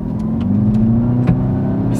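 A 2016 Seat Ibiza Cupra 1.8 TSI accelerates in second gear, its engine note rising steadily as a loud, continuous drone heard from inside the car.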